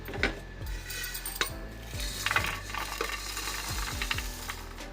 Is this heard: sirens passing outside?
no